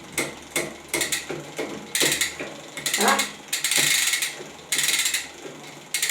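A bicycle rear derailleur is shifted while the cable tension is being adjusted, so the chain hops across the cassette sprockets. Close, crisp ratcheting clicks come in short, uneven bursts, with no voice over them.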